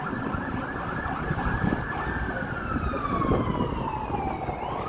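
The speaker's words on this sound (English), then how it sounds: "You can hear more sirens when we're... Is it a paramedic again?" A paramedic siren wails, sweeping up and down over steady downtown Toronto street and traffic noise, moderately loud and continuous throughout.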